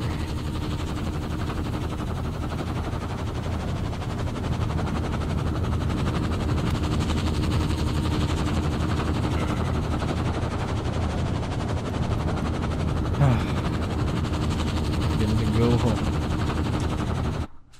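A helicopter in the video game Firewatch gives a steady, loud, broadband rotor roar that fills the whole stretch without pause, with faint game sounds and a brief voice beneath it.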